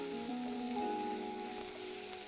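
Garlic, ginger and chili sauté in a pan for dal makhani, giving a steady, soft sizzle with a faint electrical hum beneath it. The sound is close and continuous, and no one speaks.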